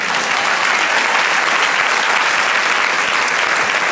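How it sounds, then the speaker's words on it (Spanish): A church congregation claps in praise during a worship service, a loud, dense and continuous wash of many hands that fills the room without break. "Dale otro aplauso al Señor."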